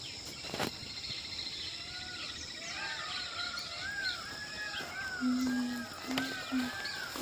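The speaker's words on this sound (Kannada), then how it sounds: "ಎಷ್ಟು ನವಿಲುಗಳು ಕಿರುಚ್ತಾ ಇದ್ದಾವೆ ಕೇಳಿಸ್ಕೊಳ್ಳಿ" Loud, wailing peacock calls ring out from several directions at sunrise over a village farm, rising over a dense bed of chirping insects and smaller birds.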